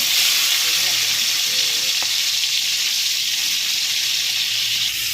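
Shrimp tails frying until crispy sizzle in hot oil with a dense, steady hiss, loud and close, with a faint stirring clink partway through.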